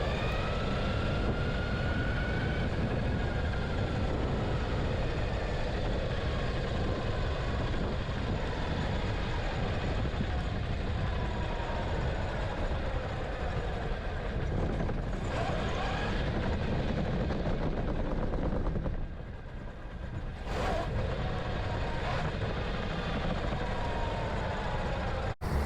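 A $10,000 RC monster truck being test-driven, its motor whining and droning continuously over about 25 seconds, rising and falling as it runs, with a brief dip near the end.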